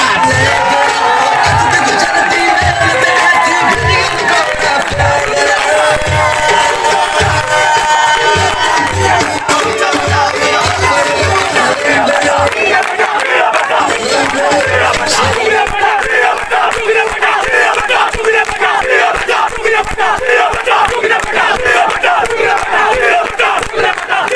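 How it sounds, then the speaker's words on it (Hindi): Crowd at a PML-N political rally in Lahore cheering and shouting loudly and continuously, with rhythmic chanting and a dense, roaring outdoor din that fills the whole stretch. "आपकी भरपूर तालियों की आवाज में"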